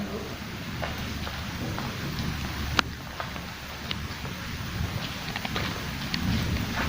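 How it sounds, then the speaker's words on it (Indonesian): Steady rain falls outside an empty house, a constant hiss with scattered sharper drips and one louder knock, heard at low level with no talking. "Saat ini Maria Sunda Bocor padahal lagi hujan"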